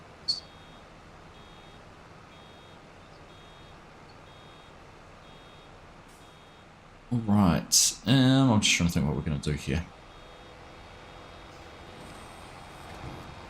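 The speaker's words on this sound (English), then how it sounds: "Nice beeping." A vehicle in Farming Simulator 25 gives faint, steady reversing beeps in the background while someone speaks briefly over them.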